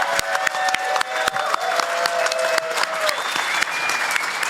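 Steady applause from an audience at the Dabblecon 2024 convention, a close, continuous patter of clapping with a few sharp individual claps standing out and faint voices beneath.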